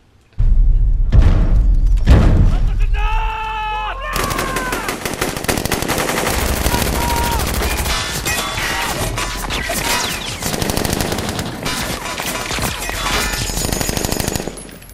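Loud, dense machine-gun fire from an Iron Man movie scene, a sustained barrage of rapid shots mixed with crashes and impacts that runs continuously after a few opening thumps and tonal sweeps.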